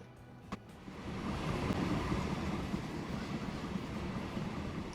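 A train rolling along the track in the video game Transport Fever 2, a steady low rumble with faint clickety-clack that builds after a brief click and holds at moderate, even loudness.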